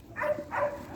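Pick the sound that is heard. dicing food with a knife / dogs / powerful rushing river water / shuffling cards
dogs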